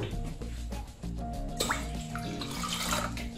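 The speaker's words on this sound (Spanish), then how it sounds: "Ya seguimos añadiendo el agua." Water pours into a cooking pot on the stove for a vegetable stew, a steady close splashing stream that gets brighter and fuller partway through.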